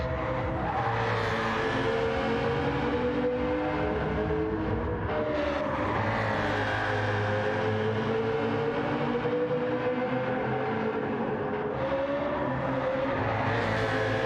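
Racing cars in the video game FlatOut roar past each other in an overtake, with dense, layered engine drones rising and falling in pitch and tires squealing. The sound is loud and continuous throughout, with no talking.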